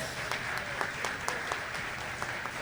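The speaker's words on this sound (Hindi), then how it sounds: "एक ज़रा ज़ोरदार तालियां हो जाए ताकि आप लोगों की मौजूदगी का एहसास हो जाए" An audience at an Eid comedy show applauds in a steady, moderately faint stretch of clapping with scattered sharper claps throughout.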